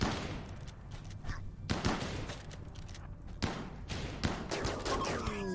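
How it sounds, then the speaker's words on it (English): Gunfight in RimWorld, scattered gunshots and thuds popping irregularly at mid distance over a busy rumbling background, with a faint voice underneath. "Get him to shoot, get him to shoot."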